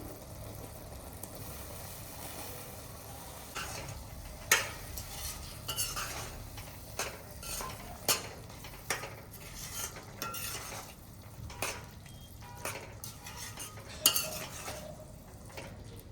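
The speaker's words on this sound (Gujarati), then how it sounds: "હવે એમાં આપણે મકાઈ એડ કરી દઈશું" Corn kernels stirred into sizzling gravy in a pan for corn sabji, with a spoon repeatedly scraping and clinking against the metal over a steady low sizzle, close and fairly quiet.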